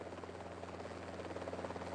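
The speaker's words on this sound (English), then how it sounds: "that night, the helicopters came." A helicopter rotor churns in a dense, continuous drone at night, its steady rapid chop fairly faint and even throughout.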